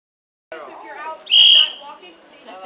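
A single shrill whistle blast rings out loud and close over a busy murmur of people talking nearby.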